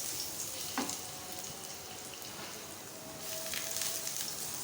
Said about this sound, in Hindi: गार्लिक हमारा थोड़ा सा सौते हो जाता है